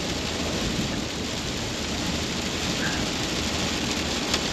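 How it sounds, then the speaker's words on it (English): Rain falls steadily on a farm, a dense, even hiss of drops on surfaces with no breaks, loud and close, with a faint low rumble underneath. "I don't like the rain on the farm."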